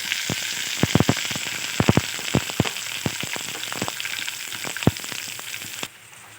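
Green chilies sizzling in hot oil in a pan for a mushroom curry with crushed garlic and ginger, a steady close frying hiss broken by sharp crackling pops and spatters, then the hiss drops abruptly near the end.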